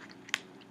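A single sharp crunch from biting a baked pea snack crisp made with corn oil and salt, close and brief in a quiet room.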